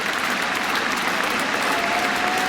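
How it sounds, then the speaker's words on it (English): A cricket crowd gives a standing ovation to Alastair Cook's century in his final Test match, with dense, sustained applause from a large stadium audience holding steady throughout. "just giving waves and waves of applause. Everyone on their feet."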